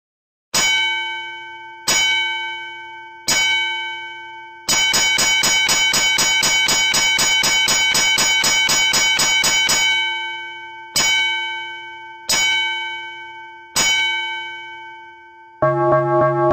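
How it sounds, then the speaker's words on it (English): A ship's bell: three separate strokes, then a fast continuous run of ringing lasting about five seconds, then three more distinct strokes, all loud and metallic with long ringing tails. "the rapid ringing of the bell"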